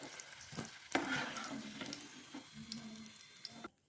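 Chicken ada, a stuffed snack, frying in hot oil: a steady close sizzle and crackle with occasional clinks and stirring scrapes as pieces are turned and lifted out, no talking.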